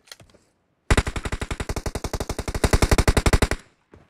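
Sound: gunfire in PUBG Mobile video game

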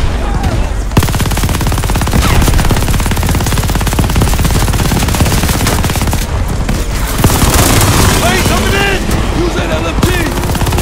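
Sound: gunfire in the video game Call of Duty: Vanguard

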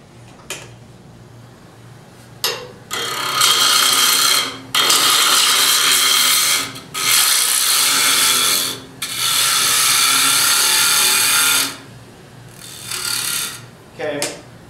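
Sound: wood turning a candlestick with a bowl gouge

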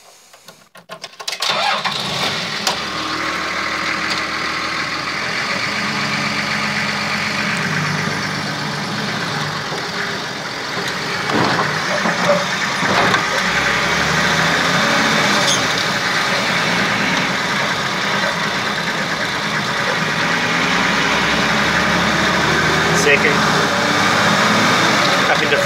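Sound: Toyota HJ45 new engine running on first drive

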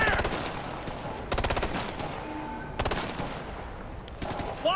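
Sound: machine gun fire in the video game Ghost Recon: Future Soldier

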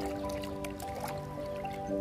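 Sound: stirring antifungal powder into water

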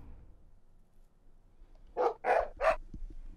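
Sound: dog barking in video game moon

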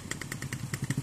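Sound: motorcycle engine

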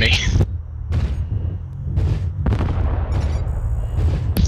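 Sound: airstrike explosions in a video game

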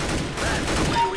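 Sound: gunfire in the video game Counter-Strike

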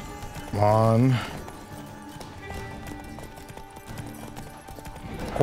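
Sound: horse galloping in the video game The Witcher 3

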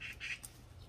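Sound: birds calling near a fruit tree

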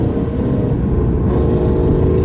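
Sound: passing car engine

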